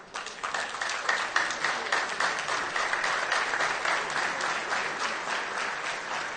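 A standing audience at a graduation ceremony for a professional training institute applauds the graduates, with steady, moderately distant clapping that fills the whole stretch.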